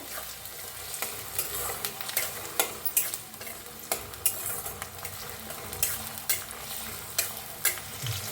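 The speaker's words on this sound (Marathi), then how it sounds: "टमाटो टाकूया, हलवून भाजून घेऊया" Tomato and onion being stirred and fried in a pan for a mixed vegetable curry: a continuous sizzle broken by repeated sharp scrapes and clinks of a spoon against the pan, roughly every half second, close and without talk.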